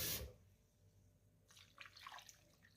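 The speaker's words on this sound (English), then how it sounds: "Then I will add water" Water poured into a cooking pot holding salt for okra soup, a quiet trickling splash that starts after a brief silence and continues faintly on its own.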